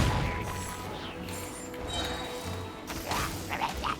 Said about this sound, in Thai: เห็นนะ มันระเบิด